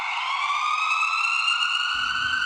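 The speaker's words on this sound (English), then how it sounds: "This ambulance is fast." An ambulance siren wails steadily and loudly, a continuous rising electronic tone that holds throughout, with a low rumble joining near the end.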